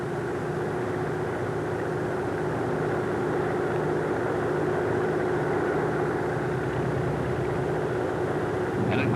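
A Brewster SB2A Buccaneer's piston engine drones steadily through a clean-wing takeoff run, a continuous, even hum of moderate loudness that builds slightly and holds without a break.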